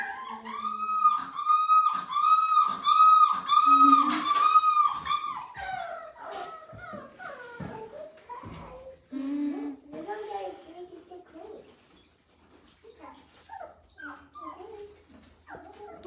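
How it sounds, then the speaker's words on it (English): Rescued puppies howl and whimper in rising, wavering cries, several overlapping and close, tapering into softer whines and yips as a person talks near the end. "Are you howling?"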